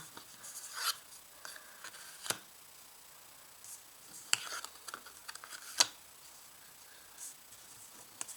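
Tarot de Marseille cards flipped over one by one on a table, producing soft papery slaps and rubs at irregular intervals, quiet and close with no talking.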